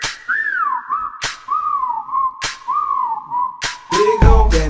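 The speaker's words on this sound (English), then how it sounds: "Okay, time to whistle at her." A person whistles at a girl, a close, loud series of sliding wolf-whistle phrases repeated several times in quick succession, broken by sharp clicks.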